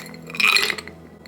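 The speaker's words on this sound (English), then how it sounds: "Then I put my ice in a glass and I pour this over the ice." Ice clinks briefly in a glass as coffee is poured over it, a few close, bright chinks in quiet surroundings.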